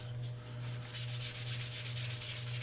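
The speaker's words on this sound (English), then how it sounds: "I started my sanding with 220 grit" A wooden bowl on a lathe is sanded with 220 grit sandpaper, giving a steady, continuous rubbing hiss with a pulsing rhythm over a constant low motor hum, no talking.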